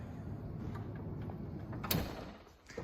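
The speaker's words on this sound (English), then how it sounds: "Electric sliding door on the side." The electric sliding side door of a 2017 Mercedes-Benz V220d Marco Polo camper runs with a faint, steady mechanical hum and a brief latch click near the end, quiet against low background noise.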